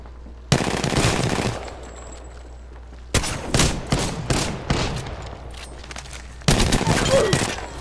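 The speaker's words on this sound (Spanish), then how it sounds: "Estoy recibiendo disparos." Bursts of rapid automatic gunfire from the Apex Legends video game crackle in three loud, close volleys separated by short quieter pauses.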